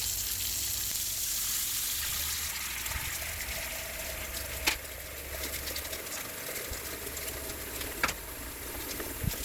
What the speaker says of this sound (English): Now we're gonna have to put some warm water in this part of the sink